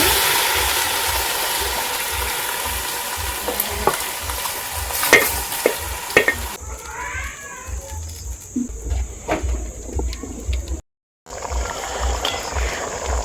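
Green grams and carrots are stirred in a pot over an outdoor village fire. Loud scraping and clattering stirs with a crackling sizzle come first, then quieter intermittent scrapes over a faint high whine, with a brief dropout near the end.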